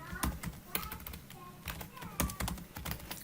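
Typing on a computer keyboard while entering text into a PowerPoint slide, a few close, quick irregular key taps in short bursts, with some quiet background speech.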